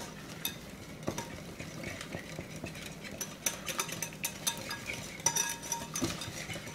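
Seasoning for Thai pork ribs, thin black soy sauce and salt, is mixed in a bowl with soft irregular clinks and scrapes of a utensil, quiet and close, without any talk.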